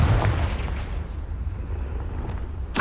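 Confringo blasting spell cast in the Hogwarts Legacy video game: a booming, rumbling burst opening the clip, with sustained low rumble trailing after and a sharp new blast striking near the end.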